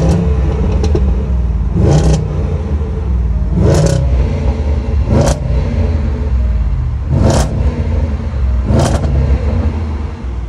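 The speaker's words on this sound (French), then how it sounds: "je vais vous faire écouter un petit peu quand même le son de l'échappement" An SVR's exhaust with the valves open barks through about five sharp revving bursts, evenly spaced over a deep, constant rumbling idle, loud and close.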